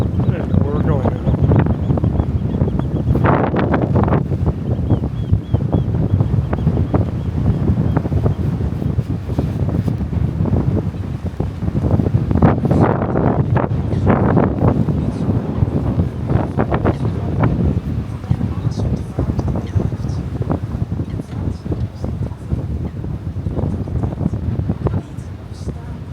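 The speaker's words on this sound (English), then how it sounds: "Windy up here." Strong, steady wind buffets the microphone high up in Rotterdam, a constant roaring rumble with occasional gusts and faint voices underneath.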